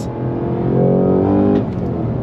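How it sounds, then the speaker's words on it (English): A 2022 Cadillac CT5-V Blackwing's supercharged LT4 V8 roars under throttle, the engine note climbing loud and close before easing off, with no talk over it. "When you go on throttle, you definitely hear the roar of that LT4."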